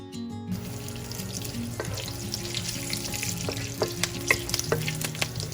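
Cinnamon, bay leaf and chilies fry in hot oil with a continuous crackling sizzle, punctuated by sharp pops and clicks of a utensil, heard close up without any talking.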